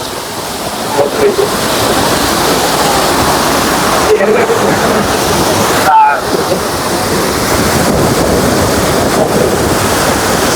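Palaruvi waterfall in Kollam roars steadily, a dense broadband rush of falling water that fills the scene from start to finish, with a brief dip near the middle.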